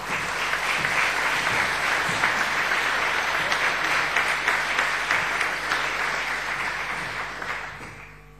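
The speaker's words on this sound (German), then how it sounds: "Applaus" Many hands clap at an academic graduation ceremony after a Bachelor of Education graduate is named, a full, continuous wash of applause that holds steady before tapering off near the close.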